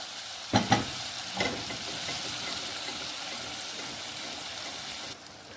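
Potato and egg curry fries in a pan with a steady, fairly loud sizzle, broken early by a few sharp stirring clatters before the frying hiss settles and cuts off near the end.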